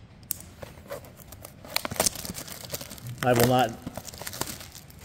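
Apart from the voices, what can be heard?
ripping open 2024 Topps Heritage baseball card blaster box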